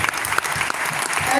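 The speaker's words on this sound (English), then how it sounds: "Give them a round of applause" Brief burst of crowd applause at a Million Man March event in Newark, New Jersey, dense clapping filling the whole moment, fairly loud and steady.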